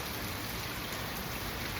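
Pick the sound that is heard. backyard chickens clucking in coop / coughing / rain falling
rain falling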